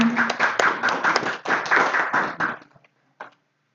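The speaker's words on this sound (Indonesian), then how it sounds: "Inggih mengas tepuk tangan" Audience at a school Balinese Language Month closing ceremony claps for a student, a short burst of scattered hand claps that fades out, leaving a few isolated taps.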